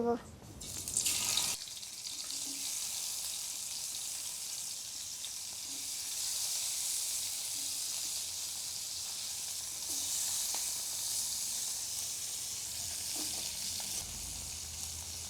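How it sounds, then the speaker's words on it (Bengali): Fish pieces laid one at a time into hot oil in a wok, a loud burst of noise at the start giving way to a continuous close sizzle with faint intermittent taps, no voice. "কড়াইতে তেল গরম হয়ে গেছে আর আমি একটা একটা করে এখন মাছ দিয়ে"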